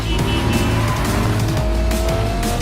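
A 4-liter six-cylinder car engine in a Cyberpunk 2077 trailer roars loud and continuous, its pitch rising and shifting as it revs, with a busy mechanical mix and faint tire noise.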